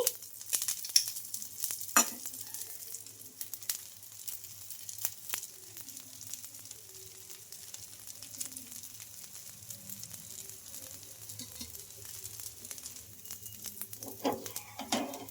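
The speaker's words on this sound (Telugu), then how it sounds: "ఇప్పుడు దోశ పైన కొంచెం ఆయిల్ అయితే వేసుకుందామండి" Oil sizzles quietly and steadily under a ragi and moong dal dosa cooking on a hot pan, with faint crackles and a few soft clicks.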